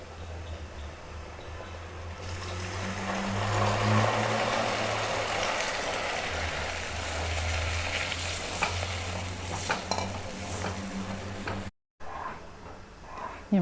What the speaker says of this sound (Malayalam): നമ്മൾ നല്ല ഇളക്കി കൊടുക്കുക.